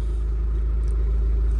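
A Mahindra Scorpio LX nine-seater's engine idles close by, a loud, steady low rumble that holds evenly throughout with no voices over it.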